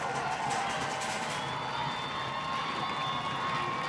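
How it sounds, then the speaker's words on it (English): A high school football crowd at a Corpus Christi Miller versus Rockport-Fulton game cheers in a steady, continuous roar heard from a distance, with no clear voices standing out. "If you can hear the crowd noise in the back, this place is rocking"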